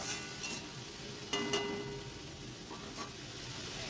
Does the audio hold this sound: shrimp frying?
yes